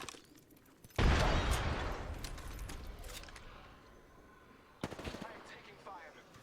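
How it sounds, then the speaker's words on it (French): Gunfire in the video game Apex Legends: a loud burst of automatic fire erupts suddenly and fades, then a second sharper volley of shots follows later, close and dominant over the game background. "Qui me tire dessus là?"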